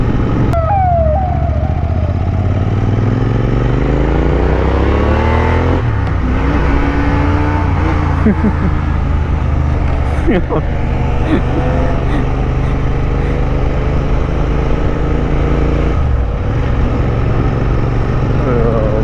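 A Royal Enfield Interceptor 650 motorcycle engine revs loudly and close, its pitch climbing and falling in repeated sweeps over a steady, continuous roar.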